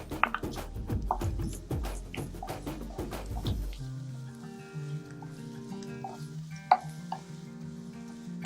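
Coconut paste stirred in a frying pan while cooking jackfruit, close scraping and stirring strokes over a sizzle for the first half, then a quieter steady fry with faint clinks.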